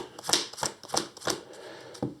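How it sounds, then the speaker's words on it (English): Marvel Champions playing cards being shuffled by hand in a few quick riffles: crisp, close flutters and snaps in short bursts, then a final soft tap. "And do a quick shuffle here"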